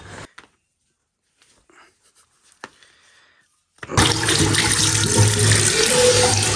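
Water gushes from a household tap, starting abruptly after a few quiet seconds with faint knocks and then pouring steadily and loudly up close.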